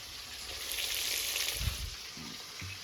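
Pieces of a large silver carp fry in hot oil in a home kitchen, giving a soft, steady sizzle with a few low bumps toward the end, faint and heard alone for a few seconds.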